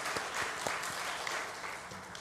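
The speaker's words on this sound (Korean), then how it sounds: "여러분 한 주간 어색함을 이기고 서로 다가갔던 여러분들에게 격려의 박수 하겠습니다" A church congregation gives a round of encouraging applause during a sermon, a steady wash of many hands clapping, fairly distant and soft, with no voices over it.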